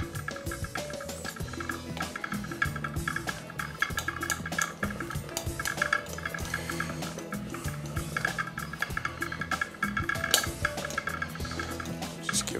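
A melting yellow plasticine mixture being stirred in a pot, continuous scraping and clinking of a utensil against the metal with soft liquid churning, close and busy.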